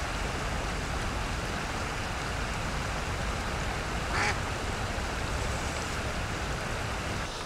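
A decoy duck of the Semyonov breed quacks once, briefly and fairly close, over a steady wash of outdoor background noise.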